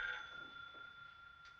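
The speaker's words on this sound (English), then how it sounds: "Not Yolanda's phone." An old-fashioned telephone bell rings in a 1958 thriller, a steady electric ring that starts at once and then fades, heard alone with a faint second ring near the end.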